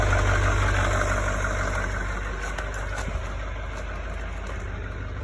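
A 2019 Chevrolet Silverado 3500 HD diesel idles steadily up close, a continuous low rumble that holds at an even level without revving.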